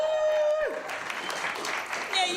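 Audience at a comedy show breaking into applause, a moderate wash of clapping from a crowd that swells briefly and continues steadily, with a voice speaking over it at the start.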